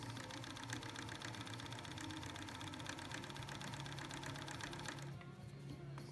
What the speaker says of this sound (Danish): hvor vi har symaskinen, og hvor vi har lagt de 2 stykker oven på hinanden, og så syr vi.